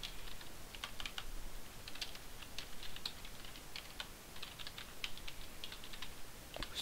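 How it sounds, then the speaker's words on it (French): Rapid clacking of a loud computer keyboard being typed on, close and steady, with irregular bursts of keystrokes over a quiet background hiss and no voices. "Je sais pas si vous entendez le clavier, il est très bruyant."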